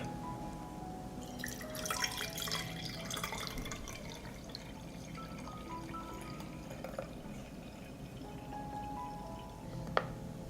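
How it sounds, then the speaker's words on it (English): A homemade plant spray solution, steeped in water for a day, is strained from a jug, giving a steady soft pour and trickle of liquid with a few faint drips and a light clink near the end, no talking. "After 24 hours, I will strain the solution."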